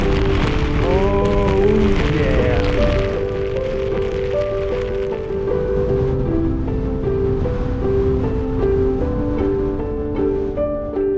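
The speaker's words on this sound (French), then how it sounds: "ce que vous devez voir, c'est que c'est la pluie" Rain falling steadily in France, a loud, dense hiss of drops on surfaces, with sustained musical tones sliding and shifting over it throughout.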